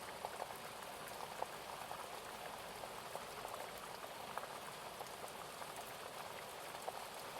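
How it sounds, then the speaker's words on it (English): Steady rain falls throughout, a soft, even patter with scattered individual drops ticking over a constant hiss. It stays quiet and unbroken from start to finish, with no voices. "it sounds like that rain is calming"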